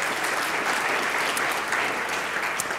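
A crowd gives warm, steady applause for Daniel, dense clapping heard throughout with no voices over it.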